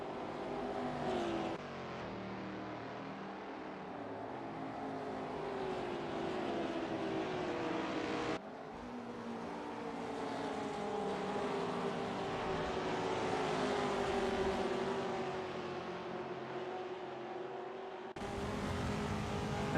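Race cars circulate on track at Cadwell Park, a continuous engine drone with rising and falling pitch through gear changes, steady and fairly loud throughout.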